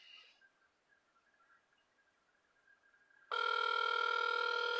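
A telephone rings on an outgoing call: after a brief tone and a long faint dial hum, a loud, steady electronic ring begins and continues alone.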